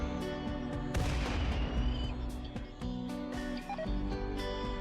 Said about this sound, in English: Really bad mortars.